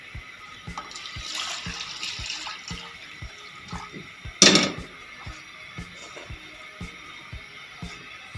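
Homemade mozzarella is rinsed in cold water: gentle sloshing and trickling with soft repeated taps, then one brief, louder splash midway before the water quiets again. No one speaks.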